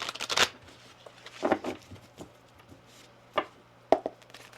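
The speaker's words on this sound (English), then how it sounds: "One more shuffle." Tarot cards are shuffled in several quick, crisp riffling bursts with pauses between, close and fairly quiet over a faint steady hum.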